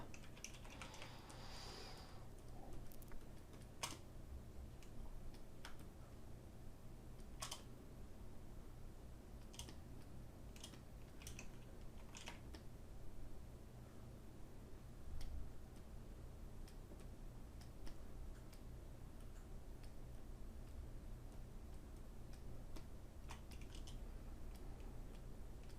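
Computer keyboard keys, including the Shift key, pressed in scattered, faint clicks and taps spread across a long, quiet stretch with a low background hum.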